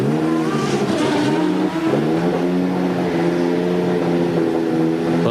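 A 1986 Lotus Renault Formula 1 car with a Renault qualifying engine revs loudly and steadily in the pits during Australian Grand Prix qualifying, its harmonics rising and falling through sustained blips with no talk.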